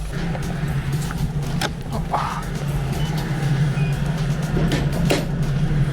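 Mazda MX-30 electric car pulling away after a charging stop, a steady low hum with road and cabin noise, close, while someone talks in the background.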